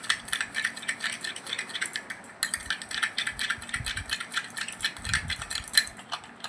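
A spoon scrapes and clatters steadily in a bowl as sugar is stirred into shampoo for a homemade facial scrub, a busy gritty rattling throughout with no voices.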